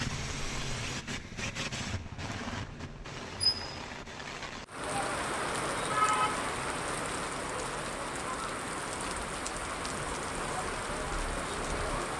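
Heavy rain falling across the Telugu states of Andhra Pradesh and Telangana, a steady dense hiss of rain on surfaces that starts after a short quiet opening and continues evenly throughout.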